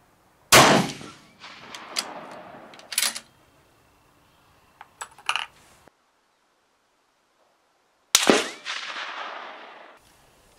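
M1A rifle fired at an outdoor range, two sharp loud reports several seconds apart, each with a ringing echo tail, plus smaller clicks and handling noises in between.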